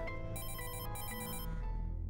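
A telephone rings with a steady electronic trill in a video game, continuous and fairly loud, alone with no voices.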